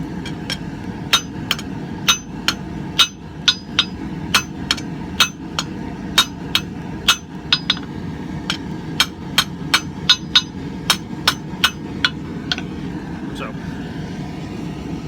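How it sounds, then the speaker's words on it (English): Steady ringing hammer blows on metal against an anvil edge, forging an axe pendant, dozens of sharp strikes in a quick, regular rhythm over a constant low background drone. "So I'm using the edge of the anvil and the toe of my hammer."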